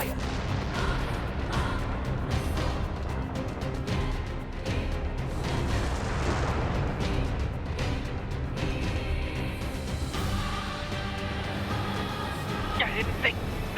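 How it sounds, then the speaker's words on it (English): Missile launch and heavy explosive booms from the video game Nier Automata, a dense, continuous barrage of blasts and rumbling fire, loud and sustained throughout with voices speaking over it. "Activate missile controls. Prepare to launch."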